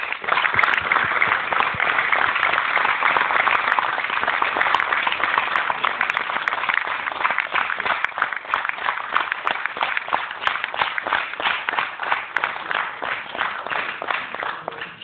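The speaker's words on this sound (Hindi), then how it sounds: "सभी के लिए साथियों जबरदस्त तालियां हो जाए।" A stage-event audience claps for producers walking on, dense and sustained applause close and loud, holding steady for the whole stretch with no talking over it.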